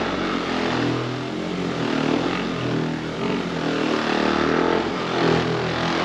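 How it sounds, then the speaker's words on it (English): A polisher buffs car paint during a restoration, its motor giving a steady droning whir that rises and falls slightly as it is worked across the panel, fairly loud and close. "you just go buffing away"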